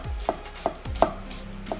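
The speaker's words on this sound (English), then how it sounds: "And we'll just do some slicing here, okay?" A Bob Kramer Euroline kitchen knife slices down onto a cutting board, giving four crisp, evenly spaced knocks at close range in a quiet room.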